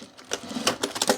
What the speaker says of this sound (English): I'm gonna top stitch it